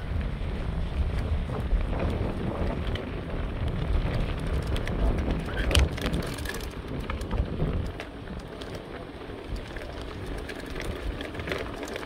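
Strong cold wind gusts buffet the microphone during a mountain bike descent from Phulchowki, Nepal, with rumbling, blustery noise that eases a little toward the end, with faint talk in the background.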